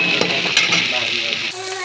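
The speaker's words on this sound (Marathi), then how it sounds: "हे असं मस्तपैकी असं हलवून घ्यायचं, मस्तपैकी आपला लाल भडक भाजायचं" Masala roasting in a pan sizzles steadily and close, with brief scraping stirs before the frying noise drops slightly at the end.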